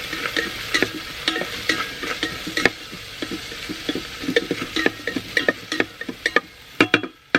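Onion sizzles and fries in an Instant Pot inside a van while a spatula stirs and scrapes, giving a steady hiss broken by frequent sharp clicks and taps close by.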